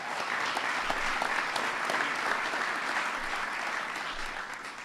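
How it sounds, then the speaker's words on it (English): A White House audience applauds NBA champions, a dense, steady wash of clapping that holds throughout and tapers slightly at the end. "Give them a big round of applause."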